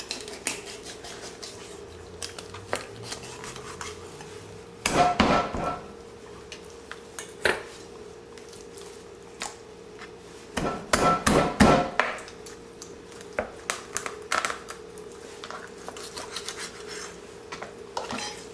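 A rabbit is cut into pieces for German Hasenpfeffer stew, wine-braised, with scattered knife chops and sharp hits against a board, plus clusters of rubbing and scraping, mostly faint against a steady background hum.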